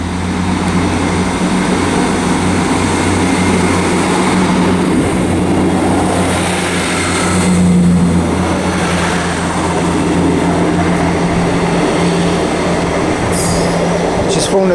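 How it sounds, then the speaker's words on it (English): A ScotRail passenger service pulling into Haymarket station in Edinburgh, a loud steady rumble of the train with a sustained low engine drone and a brief high squeal near the end. "arriving as well is a 1612 ScotRail service to Milngavie from Edinburgh"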